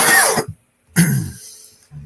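Two harsh, loud coughs close up, the second one rougher and drawn out, with a short silence between them.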